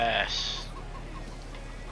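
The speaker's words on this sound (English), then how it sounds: "They're crowing again." A rooster in Farming Simulator 22 gives a short, fairly loud call at the very start, then the barnyard falls to a quiet hum.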